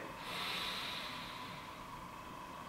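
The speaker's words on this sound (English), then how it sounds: "we're just going to take a nice deep breath in through the nose" One long, slow inhale through the nose, a soft airy hiss that swells and then fades gently over a few seconds, close and quiet with no other sounds.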